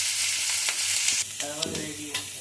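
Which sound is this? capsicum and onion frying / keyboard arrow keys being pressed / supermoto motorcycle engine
capsicum and onion frying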